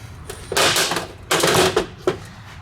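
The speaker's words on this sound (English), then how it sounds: "then we gonna grab our ratchet, click that into there" Ratchet wrench working a bolt on a motorcycle damper-rod fork in a workshop, giving short bursts of fast rattling clicks, close and fairly loud, separated by brief pauses.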